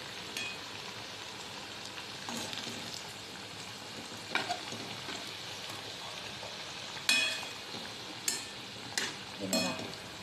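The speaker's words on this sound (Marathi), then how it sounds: "उकळत्या तेलात सोडलेले आहेत ते" Chana dal vadas bubbling in boiling oil, a steady crackling fry running throughout with a few sharper pops and clinks near the end.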